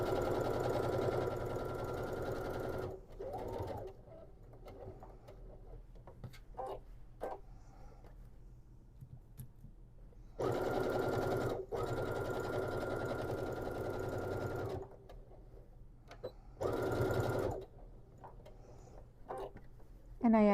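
A sewing machine stitching a tote bag runs in steady whirring bursts of a few seconds each, separated by pauses with small clicks and handling sounds, close and fairly loud.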